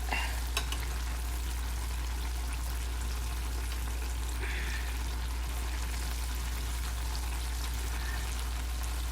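A blooming onion fries in a pan of hot oil, giving a steady close sizzle that crackles without a break, with a few brief spits and pops and no talk.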